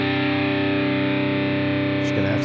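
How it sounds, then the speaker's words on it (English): Electric guitar played through a distortion pedal in the Bias FX app on an iPad rings out as one sustained, thick distorted chord that holds steady, with a brief change near the end. "put your distortion pedal first in your chain and then"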